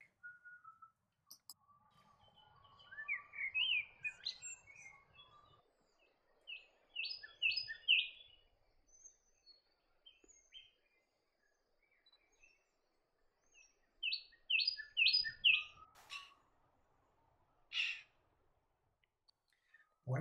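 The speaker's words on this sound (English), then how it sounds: "The common blackbird is commonly found in gardens in the region. It has a beautiful call." Common blackbird singing in a quiet garden, with clear fluting whistled phrases that come in separated bursts and pauses. Some phrases are louder and closer, and a few faint clicks occur between them.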